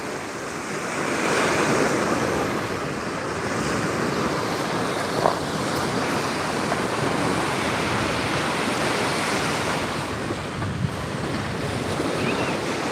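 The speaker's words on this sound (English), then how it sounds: "you can hear the waves" Steady roar of ocean surf washing on the shore at Marco Island, with wind buffeting the microphone throughout and no voices.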